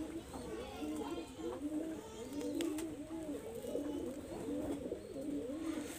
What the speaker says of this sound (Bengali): এই হলো ফিমেল কবুতর